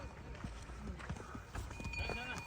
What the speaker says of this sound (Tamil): குதிரை பயணம்.